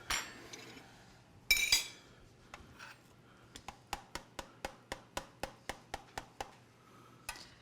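Plates and cutlery clinking while omelette is served, a few scattered clatters followed by a quick run of about a dozen evenly spaced bright clinks, fairly close.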